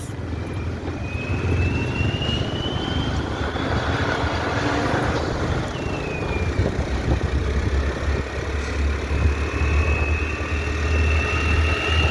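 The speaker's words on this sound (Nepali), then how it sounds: "ठुलो यहाँ हेर्न सक्नुहुन्छ पुरै ठुल्ठुलो गाडीहरूको बिचमा हामी एउटा स्कुटरमा छौँ।" Heavy road traffic of trucks and buses surrounds a scooter, a steady loud engine rumble and hum filling the whole stretch with passing vehicle whines, no talking heard.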